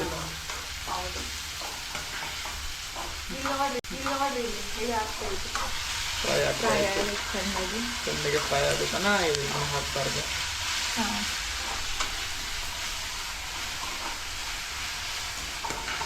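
Onions frying in a pan give a dense, continuous sizzle with stirring, close and fairly loud throughout, while voices talk over the middle stretch.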